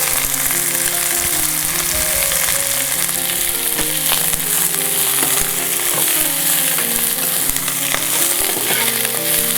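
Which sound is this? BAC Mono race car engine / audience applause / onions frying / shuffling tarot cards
onions frying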